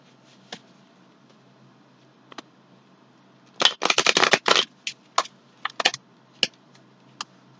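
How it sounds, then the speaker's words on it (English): Tarot cards being shuffled by hand close up in a quiet room, with a dense riffling burst in the middle and scattered single snaps and taps of cards before and after, no talk. "I am going to shuffle your cards now"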